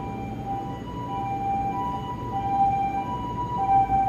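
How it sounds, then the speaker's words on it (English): An ambulance siren in Kagoshima, Japan, sounds from a distance as it passes, its repeating two-tone wail steady and fairly faint over the low rumble of street traffic. "ambulance."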